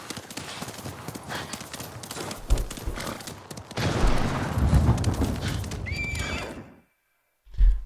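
A horse gallops in the Ghost of Tsushima video game, with rapid hoofbeats, then a whinny near the end amid rumbling booms, followed by a short silence and a final thump.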